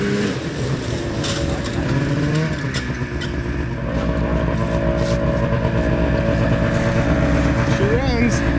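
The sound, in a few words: two-stroke snowmobile engine running after 10 years in storage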